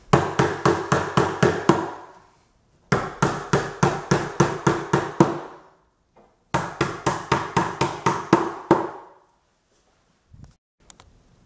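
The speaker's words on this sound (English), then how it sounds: "you'll need a hammer for this. These are pretty tough to get in by hand" Three rapid bursts of sharp hammer strikes driving pins into an IKEA Micke drawer unit, about seven or eight blows each, separated by short pauses, close and loud, followed by a couple of faint knocks.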